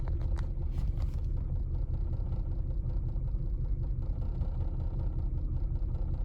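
A 1999 Lexus RX 300 engine with a cylinder 6 misfire runs in a loud, steady low rumble that stays close and even throughout, with no voices.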